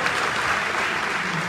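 Dense, continuous applause from a crowd honouring a dignitary at a signing ceremony, loud and steady throughout with no gaps.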